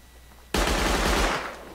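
Automatic gunfire in the survival game Rust erupts as a sudden loud, dense burst of rapid shots after a half-second lull, then rolls on continuously for about a second before slowly fading.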